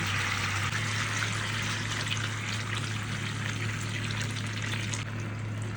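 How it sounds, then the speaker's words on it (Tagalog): Sauce from a pork ham package poured into a hot pan with browning ham gives a steady hissing sizzle and liquid rush, close and continuous under a low electrical hum. "Ibubuhos natin yung sauce galing dun sa package nito ham."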